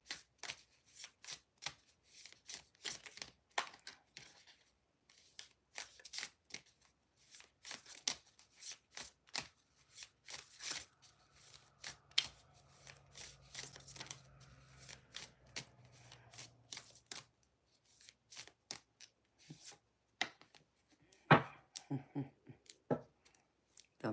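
Tarot cards shuffled for a reading, a long series of crisp riffling snaps and card clicks in irregular bursts, close and quiet, with brief pauses between shuffles.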